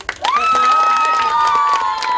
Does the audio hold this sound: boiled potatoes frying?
no